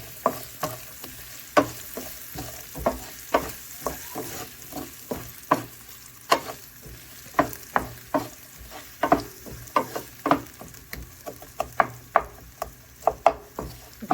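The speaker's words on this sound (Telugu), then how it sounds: "కొంచెం వేగనివ్వాలా." Onion and green chillies frying in a pan for fried rice, a soft sizzle under repeated sharp scrapes and knocks of a spatula stirring in an uneven rhythm.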